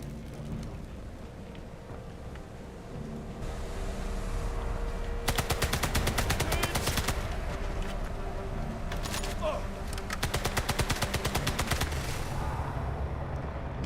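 A gun in a video game fires in rapid automatic bursts, two long rattling volleys over a steady background din of game noise, loud and close.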